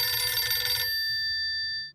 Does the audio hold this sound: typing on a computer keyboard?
no